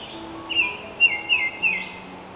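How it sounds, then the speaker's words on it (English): Birds calling high in a forest canopy, where Baltimore orioles and scarlet tanagers sing: a few clear, whistled phrases in quick succession, moderately distant over quiet woodland background. "you may hear a variety of birds calling in the canopy above, including Baltimore orioles and scarlet tanagers"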